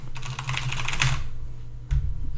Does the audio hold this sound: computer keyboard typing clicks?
yes